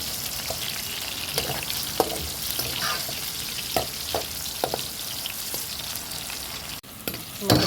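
Mango pieces for oil mango pickle fry in hot oil with a constant close crackling sizzle, dotted with sharp pops and stirring scrapes, and a brief knock near the end.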